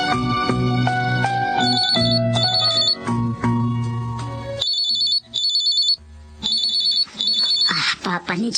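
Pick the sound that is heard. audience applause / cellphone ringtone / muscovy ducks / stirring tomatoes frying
cellphone ringtone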